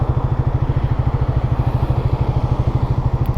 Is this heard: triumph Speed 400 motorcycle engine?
yes